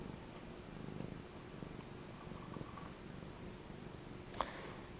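Close to the microphone, a cat purrs with a soft, steady rumble while playing with a feather toy. Near the end there is a single brief click.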